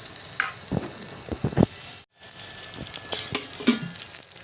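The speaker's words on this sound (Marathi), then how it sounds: "आता हे तेलात भाजून घ्या" Chopped vegetables frying in hot oil, a loud close crackling sizzle with sharp stirring clatters, cut by a momentary silence midway before the sizzle resumes.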